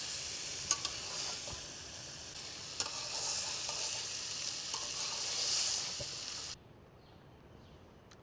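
Fish frying in a pan with turmeric and chili, a steady close sizzle with occasional stirring clicks, swelling slightly before cutting off abruptly near the end; no talking.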